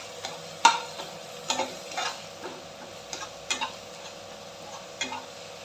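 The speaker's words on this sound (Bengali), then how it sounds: "এখন দিয়ে দিচ্ছি হলুদ, জিরা, ভালো করে মিক্স করে নেব।" Turmeric and cumin stirred into hot oil in a pan over a chilli and onion paste, with soft frying sizzle and a few sharp utensil scrapes and taps spaced through, alone with no voices.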